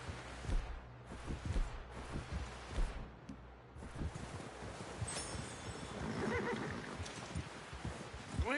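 A horse in the Red Dead Redemption 2 game gives a whinny amid thumping hooves, low rumbles and game ambience, with shouting voices around it in a busy, noisy scene.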